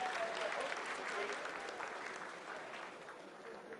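A crowd applauds at the Chandrayaan-3 lunar landing telecast during the vertical descent phase, a dense, steady clapping that fills the room loudly and eases slightly toward the end.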